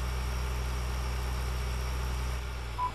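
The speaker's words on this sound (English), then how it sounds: "tractor sounds awfully bassy today" A tractor engine idles in Farming Simulator 2013, a steady deep low rumble with a constant drone and faint hum throughout, no talk, with a brief higher tone near the end.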